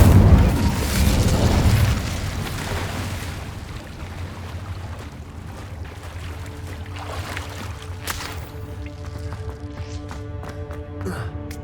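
The Incendio fire spell cast in Hogwarts Legacy opens with a loud, rushing burst of flame lasting about two seconds. It then fades into quieter game ambience with soft tonal chimes and scattered small pops.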